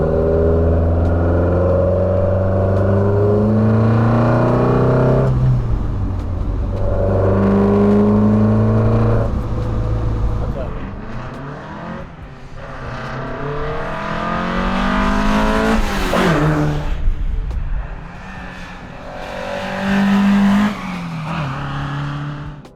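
An Alfa Romeo Giulia with a Twin Spark engine revs hard through repeated climbs and gear changes while driving. The engine note is loud and close, and it drops briefly between pulls.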